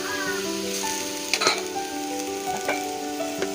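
Water poured into a hot pan of frying potatoes for a Bengali fish curry with elephant foot yam gives a steady sizzle and hiss, with a few sharp bubbling pops and a faint clatter near the middle.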